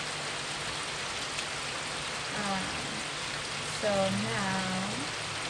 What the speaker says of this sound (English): Another nice heavy rain for a reading.